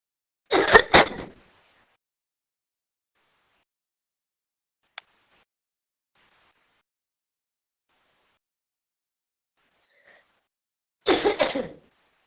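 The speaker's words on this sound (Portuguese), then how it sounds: "Tô com a tosse." A person coughs in two short, close bursts at the start, then again after a long quiet stretch broken only by a tiny click.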